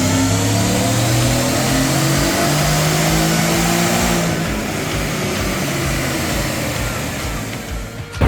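Whipple-supercharged Ford F150 XLT engine running on a dyno, a loud sustained rising drone with strong harmonic whine that holds steady, then drops off sharply at the end.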